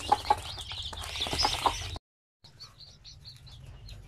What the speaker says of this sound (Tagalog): Sobrang dami na sisiw ah.